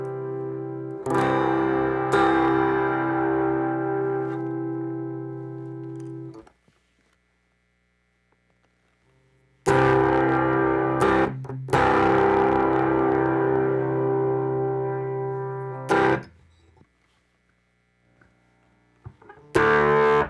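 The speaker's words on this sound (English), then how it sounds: "the last pedal that we have here is the fuzz face" Heavily fuzzed electric guitar chords through a Fuzz Face pedal ring out and sustain, then cut off; two long distorted strums separated by silence, with a raspy, saturated buzz.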